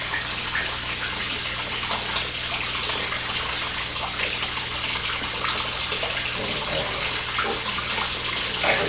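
Water gushing from a pipe into a newly built backyard pond, a continuous loud splashing rush that holds steady throughout, close by with no talking.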